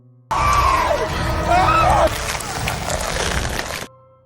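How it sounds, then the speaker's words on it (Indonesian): Hysterical screaming from a group of people in a horror film scene, loud and continuous, with shrill overlapping cries and crowd commotion for several seconds before cutting out. "Semua orang berteriak histeris"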